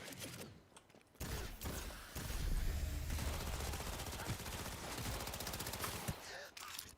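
Rapid gunfire from smart weapons in Cyberpunk 2077 crackles in a dense, sustained burst of close shots from about two seconds on, after a brief quieter opening.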